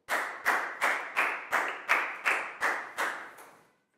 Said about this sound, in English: Big round of applause for Preo, please, guys.